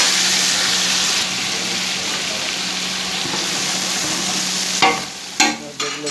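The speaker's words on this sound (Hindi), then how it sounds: "इसमें हम अदरक लहसुन का पेस्ट डालेंगे।" Ginger garlic paste frying with onions and beef in a pot for akhni beef pulao, a dense close sizzle, then a few scraping stirs near the end.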